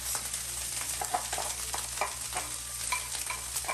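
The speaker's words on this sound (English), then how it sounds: "Go ahead and add your onion." Onion for samosa filling fries in a pan with a steady close sizzle, overlaid by repeated scraping and stirring strokes throughout.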